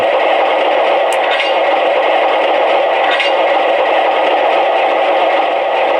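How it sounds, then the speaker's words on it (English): Steady broadband mechanical hiss with faint metallic clicks from the couplers of an MTH GE 44-Tonner model locomotive being thrown, a continuous scraping rattle close by with no voices. "And here's the sound of the couplers being thrown."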